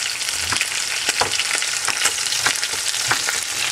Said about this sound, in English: I cut my potatoes about 4 or 5 times, kind of nice, big, look good pieces, and just drop in the skillet